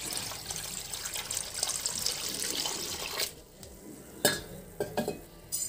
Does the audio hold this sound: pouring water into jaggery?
yes